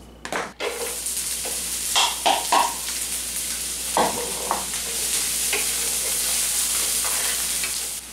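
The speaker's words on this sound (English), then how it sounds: "put your tablespoon of olive oil in your skillet, and you're going to want to bring that to medium-high heat, and then we're going to saute our onions" Onions sautéing in olive oil in a skillet over medium-high heat, a steady loud sizzle with several scraping stirs and a sharp utensil knock near the start, no talk.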